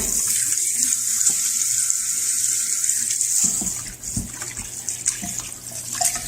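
Cold water runs steadily from a kitchen tap into a pot for rinsing chicken bones, a constant hiss that cuts off about halfway, followed by quieter handling clunks and small splashes.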